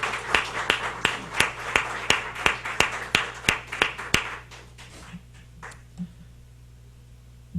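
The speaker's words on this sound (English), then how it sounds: "Have another round of applause for the." A small audience at an Essex County presentation claps in a steady, sparse rhythm of individual handclaps, close and distinct, fading out after about four seconds into quiet room noise.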